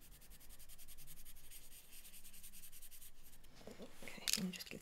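Soft pencil rubbing and blending on paper while drawing a deerhound puppy, a faint continuous scratchy hiss close up, ending in a couple of brief louder rubs and light handling sounds.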